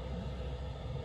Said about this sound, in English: so we fired up the Chinese heater